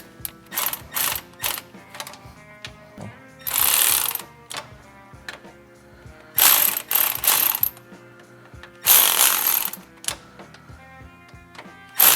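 A ratchet wrench works the belt tensioner bolts on a Toyota 2UZ-FE engine, giving close, crisp clicking in repeated bursts, some quick and rapid, some slower, separated by short pauses and occasional metallic clunks, with no talking.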